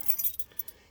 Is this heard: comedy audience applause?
no